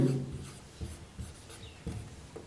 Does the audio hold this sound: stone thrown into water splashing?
no